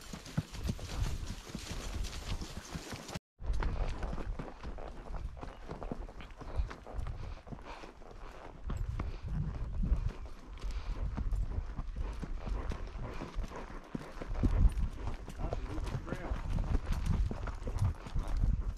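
A horse on a trail ride in Colorado backcountry clip-clops along at a steady walking rhythm, hooves thudding close over a continuous outdoor rumble, with a brief break near the start.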